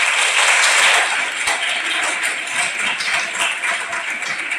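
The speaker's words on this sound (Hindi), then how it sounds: "अपने लिए बहुत प्यार से ताली बजाओ" A hall full of nursing college students applauding themselves, a dense, continuous wash of clapping that holds steady and fades slightly toward the end.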